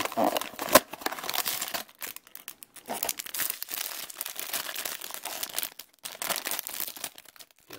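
Someone tears open the crinkly wrapper of a Loyal Subjects Thundercats blind box toy close up. Sharp crackling, crumpling and tearing bursts come in irregular spurts with brief pauses between them.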